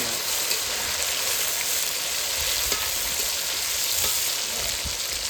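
Fish frying with tomatoes in a pan gives a steady, dense, close sizzle throughout, with occasional faint clinks and stirring under it and no talk.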